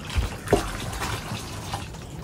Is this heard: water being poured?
yes